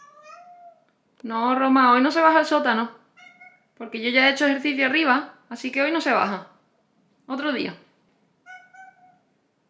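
Pet cats meow repeatedly by a basement door, long harmonic cries in several bursts alternating with someone speaking Spanish close by.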